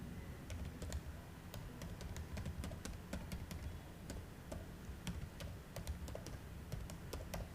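Rapid, quiet keystrokes on a computer keyboard tap out an email address in an irregular stream of light clicks over a soft background hum.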